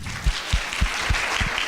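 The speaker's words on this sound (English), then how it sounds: "Let's give them a round of applause." An audience claps for a panel after a question-and-answer session on food strategies, a short stretch of steady applause with a few heavier thumps in a regular rhythm.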